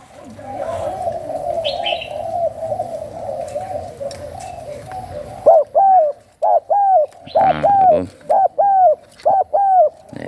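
Repeated deep coos of a large dove ring out in a steady rhythmic series, loud and close, over a continuous lower cooing background with some faint chirps.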